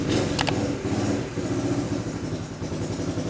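A brand new 125 cc motorcycle is kick-started without a battery fitted, giving a short clattering crank that catches into a rough, close engine rumble.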